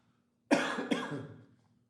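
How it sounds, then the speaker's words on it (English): A person breaks into a short coughing fit during a committee meeting about the boardwalk and beach: two close, harsh coughs trailing into a rough throaty rasp, loud and near, with no talk over them. "I'm gonna go in a coughing fit, I apologize."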